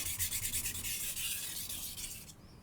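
Kitchen knife, a Hatsukokoro STRIX steel gyuto or petty, drawn in quick repeated strokes across a sharpening stone, a close rhythmic scraping rub that fades out at the end.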